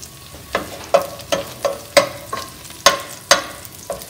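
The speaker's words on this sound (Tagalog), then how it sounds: "Para bumango siya, dahan-dahan lang yung pagpiprito natin ng bawang." Garlic and onion fry slowly over low heat in a pan, a soft steady sizzle broken by regular scraping strokes of a spoon stirring them, roughly two per second, close and moderately loud with no talking.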